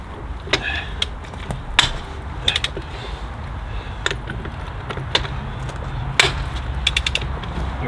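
A ratchet wrench cracks off the wheel bolts on a Ford TW25 tractor, with sharp metallic clicks and clanks at irregular intervals over a steady outdoor background.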